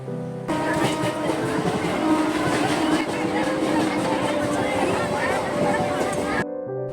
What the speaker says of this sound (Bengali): অবশেষে ঢুকলো ট্রেন